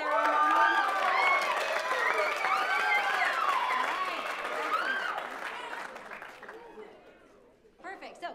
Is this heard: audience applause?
yes